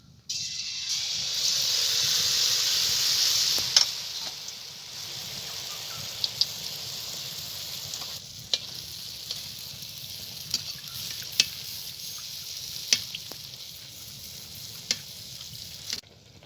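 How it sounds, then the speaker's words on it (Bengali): Palm-fruit pitha frying in a little oil, a steady close sizzle that is loud at first and then settles lower, broken by scattered sharp pops and crackles throughout, with no talking. "দেখুন এর থেকে অল্প অল্প তেল এরকম করে দিয়ে ভেজে নিতে হবে। আমি সবগুলো এরকম লাল লাল করে ভেজে নেব।"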